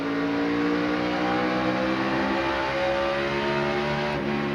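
NASCAR Busch Series race cars at speed at Indianapolis Raceway Park in 2003, a loud sustained engine roar with layered droning tones as cars run close together, no voices.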